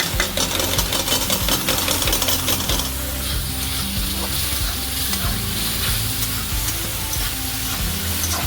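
Tomato puree cooking in oil in a kadhai for Amritsari pindi chole, a dense continuous sizzle and bubbling with busy clinks and stirring scrapes throughout, close and fairly loud, with no talking.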